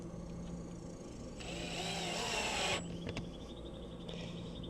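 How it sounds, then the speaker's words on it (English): A power screwdriver whirs for about a second and a half as it drives a screw into an RV flip-up table extension, close and fairly loud, followed by a couple of light clicks in a quiet room. "Make sure I don't strip these by screwing them in too hard."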